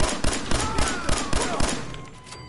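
Gunfire in Fallout 4, a rapid run of about eight sharp, loud shots at an even pace, close, followed by a fading ringing tail.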